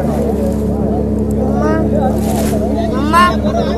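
A boat motor on a trip to Sindhudurg fort hums low and steady close by, heard under people talking.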